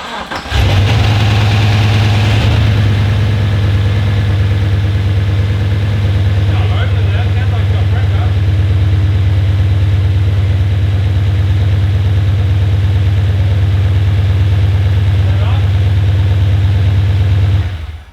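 A turbocharged LS1 V8 in a Holden VY ute starts up for the first time and runs loudly and steadily at a deep close idle for about seventeen seconds before cutting off, with people talking faintly over it.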